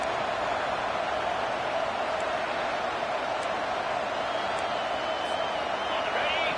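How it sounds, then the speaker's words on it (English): Home crowd noise from a college football video game, NCAA 25, Georgia vs Michigan, a steady dense roar that holds at one level throughout, with faint whoops and shouts rising out of it now and then. "Here comes this home crowd as the defense tries to get off the field on third down"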